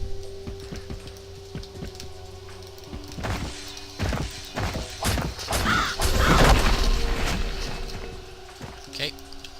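Two crows attack in rapid succession in the video game Bloodlust, giving a string of sharp, quick hits and flutters that build to a dense burst, over a steady game background hum.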